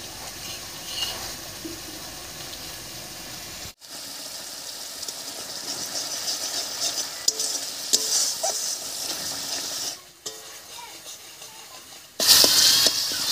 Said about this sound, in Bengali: মশলাটা হালকা কষানো হয়ে গেছে, এবার এর মধ্যে দেব এক চামচ জিরা বাটা